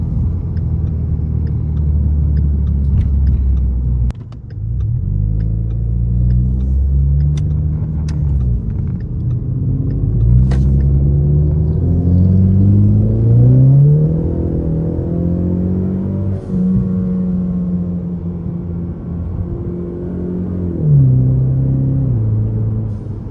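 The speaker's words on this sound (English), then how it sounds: "just listen to the car. I'm gonna do a little pull for you guys as well." A tuned 2017 Ford Mustang EcoBoost accelerates hard through several gears, its engine note rising and dropping at each shift over a steady, loud cabin rumble, with no talking.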